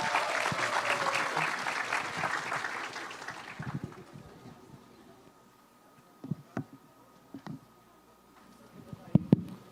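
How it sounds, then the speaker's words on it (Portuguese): A seminar audience gives a burst of applause that fades after a few seconds, followed by faint room noise and scattered handling knocks. "Uma salva de palmas para ele, por favor."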